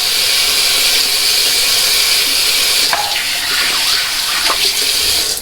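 Water gushing steadily from a bathroom tap while a safety razor is rinsed during a shave, loud and close, with brief splashy clatters as the razor passes under the stream.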